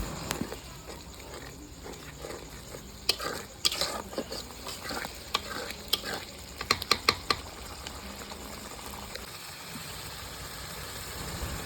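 A spoon clatters and scrapes in a pan as chicken curry masala with turmeric, salt and chili is stirred and fried; a sizzling bed runs under irregular sharp knocks that cluster mid-way, with no talking.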